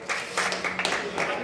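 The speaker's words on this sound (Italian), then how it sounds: "Bel applauso" Applause from a crowd at the close of a boxing match, a broad steady wash of clapping lasting the whole moment, fairly loud and close, with voices mixed in.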